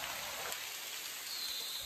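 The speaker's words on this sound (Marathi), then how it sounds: "पाऊस बघा पडायला लागला मस्त" Rain falls in a hilly forest as a steady, even hiss of fine drops, moderately loud and continuous, with no voices.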